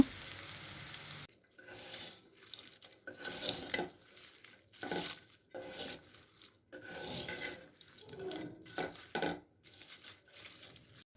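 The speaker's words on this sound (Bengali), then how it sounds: "পেঁয়াজ রসুন জিরা তেজপাতা এরকম ভাজতে ভাজতে যখন একেবারে মচমচে হয়ে যাবে" Onion, garlic, cumin and bay leaves fry in a pan until crisp, heard as quiet, intermittent bursts of scraping and rasping stirring over a faint sizzle, with short pauses between strokes.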